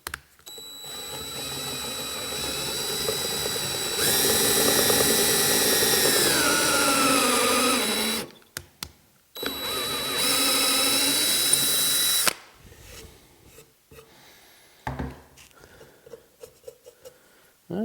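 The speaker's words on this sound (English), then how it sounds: "I'm going to try this drill and tap bit and see how it does." A power drill fitted with a drill and tap bit cuts threads in two sustained whining bursts, the pitch shifting as it bites into the workpiece, followed by scattered clicks and handling noises.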